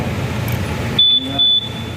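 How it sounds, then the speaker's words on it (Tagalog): A motorcycle's security alarm gives two short, piercing electronic beeps close by while an engine idles underneath. A voice speaks around the tones. "Alarm yan eh. Natunog ba alarm yan? Natunog yan."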